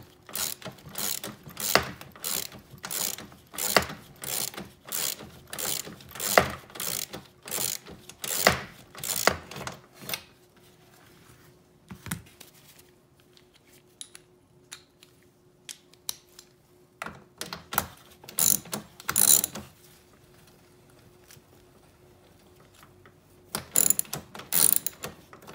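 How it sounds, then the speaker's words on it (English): Ratchet with a deep 10mm socket driving long fasteners while installing a Raptor-style grille on a 2015 Ford F150, a run of rapid, evenly spaced clicks, then pauses and shorter bursts of clicking, close and clear. "You're going to need a deep 10mm socket."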